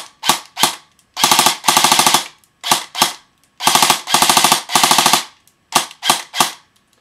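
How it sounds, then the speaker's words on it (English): An A&K M16 A4 airsoft rifle running a high-output 9.6 V large-type battery fires loud, close bursts of rapid automatic shots mixed with single shots, separated by short pauses, with no talking. "I'm going to shoot it first"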